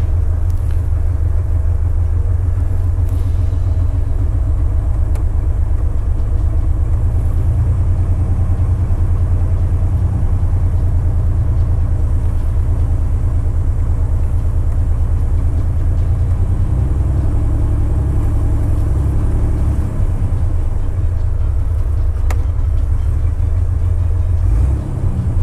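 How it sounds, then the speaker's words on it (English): Jeep Wrangler YJ with a performance cam idling close by, a deep steady low rumble with a slightly lumpy pulse that swells briefly toward the end, no voices over it. "I gotta let it idle a little bit."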